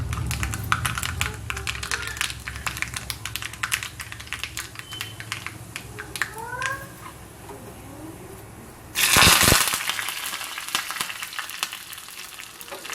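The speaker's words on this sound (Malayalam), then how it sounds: "കടുക് ഇട്ട് കൊടുക്കാം. കടുക് പൊട്ടി വരുമ്പോൾ നമുക്ക് വറ്റൽമുളകും കറിവേപ്പിലയും കൂടി ചേർത്ത് കൊടുക്കാം." Mustard seeds crackle and splutter in hot oil in a pan, a dense run of tiny pops building to a loud burst of sizzling near the end, close up with no talk.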